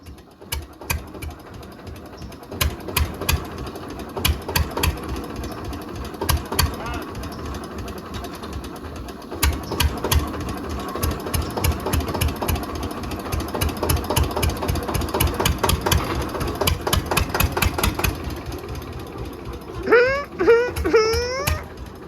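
A tractor engine chugs steadily with a rapid, rhythmic mechanical knocking throughout, and a brief high squealing chirp near the end.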